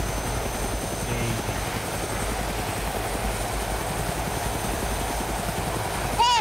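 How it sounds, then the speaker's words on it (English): Steady helicopter rotor drone from a helicopter in the DayZ video game, loud and continuous throughout with a brief louder burst at the end. "Andrew's flying the helicopter"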